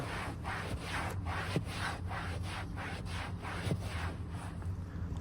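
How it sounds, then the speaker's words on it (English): An eraser scrubs dirt from a leather seat in a Mercedes C-Class V6, making rapid, rhythmic close-up rubbing strokes, quiet and steady with slight squeaks. "I'm going to use this eraser, and hopefully that brings the dirt out a bit more"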